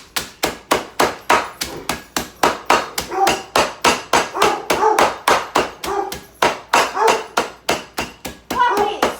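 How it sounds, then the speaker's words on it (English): Rapid, repeated blows of a kitchen hammer crushing tortilla chips, roughly two or three per second, brittle crunching; close and fairly loud. "I'm gonna get my kitchen hammer"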